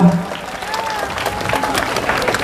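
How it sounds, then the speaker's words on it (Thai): Audience applause at a children's pageant, a burst of many hands clapping that starts strongly and carries on steadily, with some crowd noise mixed in. "ขอเสียงปรบมือ"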